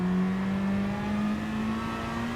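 A race car in Gran Turismo Sport with its engine droning at a steady, slowly rising pitch as it comes back on the throttle, heard continuously and fairly close throughout.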